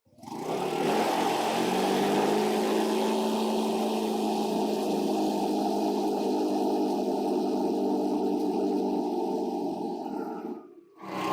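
A vehicle engine fitted with a water fuel kit runs at a steady idle, a loud, continuous droning hum close by that fades out abruptly at the end.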